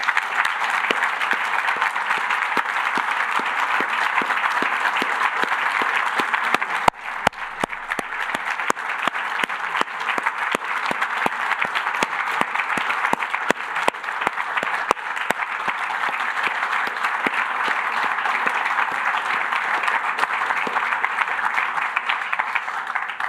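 A large audience at a law library naming ceremony applauds steadily for over twenty seconds, a dense, even wash of clapping at constant loudness with a brief dip partway through.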